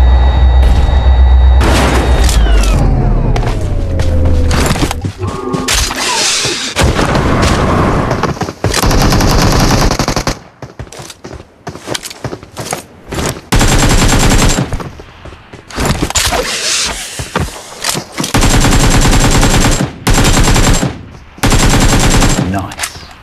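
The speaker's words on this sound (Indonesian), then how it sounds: "Mereka masih perang udah nembak gua anjir." Gunfire rattles through a solo-versus-squad PUBG Mobile match. Loud bursts of automatic fire and heavy booms come in repeated volleys, broken by short lulls, close and intense throughout.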